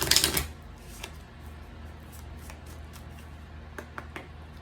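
Tarot cards being shuffled by hand, a short loud riffle at the start followed by faint scattered flicks and taps of the deck, close up and quiet with no talking.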